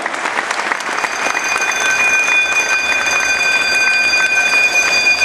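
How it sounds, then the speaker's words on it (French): An audience at the Miss Rouen 2015 pageant breaks into loud, sustained applause, a thick crackle of many hands with faint steady high-pitched tones running beneath it. "un tonnerre d'applaudissements"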